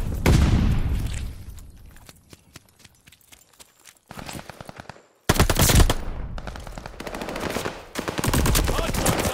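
Bursts of automatic gunfire crackle at a hardpoint in the video game Call of Duty: Vanguard, with rapid rattling volleys, short pauses and dense stretches of overlapping shots, loud and close.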